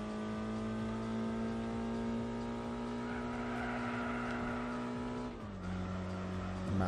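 A BMW 1 Series racing in Gran Turismo 4 holds a steady, loud engine drone that rises slightly, then drops in pitch at one gear change before climbing again.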